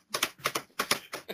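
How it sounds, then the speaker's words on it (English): Keys clack in quick bursts of several strokes with short pauses between, a crisp, close mechanical rattle heard alone. "we're supposed to listen out to the sound of people typing now"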